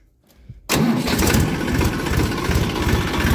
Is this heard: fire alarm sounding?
no